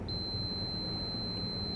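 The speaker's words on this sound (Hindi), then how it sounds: "ये ओहम की रेंज पर हम इसे सेट करेंगे जहाँ पर बीप का साउंड आता है।" A clamp meter set to its ohm range gives a steady high-pitched continuity beep that holds unbroken for nearly two seconds, loud and close over a low background hum.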